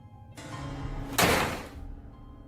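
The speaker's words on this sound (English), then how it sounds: "the door slams shut and he's locked out" A door slams shut with a single sharp bang near the middle, following a low rumbling ambience in a dark, tense setting.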